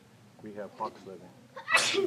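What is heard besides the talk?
a person sneezing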